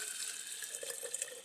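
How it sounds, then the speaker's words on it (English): Fresh water pours into a spaghetti sauce jar of sprouting seeds, a short, soft, steady hiss and trickle heard up close and alone. "The next thing we have to do is cover them with water."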